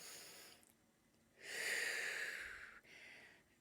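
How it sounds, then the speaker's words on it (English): A single slow, deep breath drawn in through the nose and let out evenly, surging from near silence to a loud, airy rush before tapering off, with no talking. "Breathe in, hold for a second, and learning to breathe."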